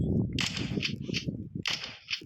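Gunfire from the online shooter game Chicken Gun: several sharp, close cap-gun-like shots crack out in quick bursts over a busy low game rumble, with a second cluster of shots toward the end.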